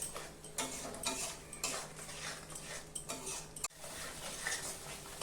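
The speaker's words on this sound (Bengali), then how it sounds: "এখন আমি ভালো করে কষিয়ে নেব।" A spoon scrapes and clinks against a pan in repeated strokes as spices are sautéed for a raw banana kofta curry, with a faint sizzle beneath, close and fairly quiet, no voices.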